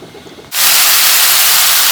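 Sliced eggplant drops into hot oil for a South Indian stir-fry, setting off a sudden loud burst of sizzling that holds as a strong, steady hiss after a quiet moment.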